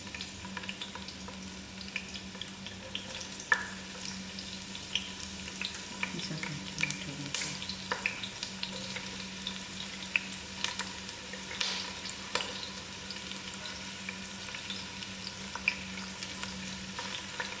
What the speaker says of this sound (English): I'll allow these onions to fry out.